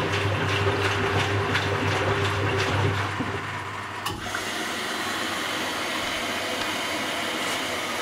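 Water rushes steadily into a Rex RC 5221 LX washing machine drum as it tops up during a pre-wash bleaching cycle, with a low hum that stops midway and a constant hiss continuing after.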